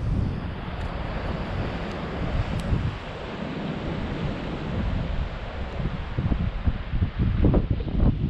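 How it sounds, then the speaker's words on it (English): Steady wind roars and buffets the microphone throughout, with rumbling gusts growing stronger toward the end. "It's going to probably be pretty windy here"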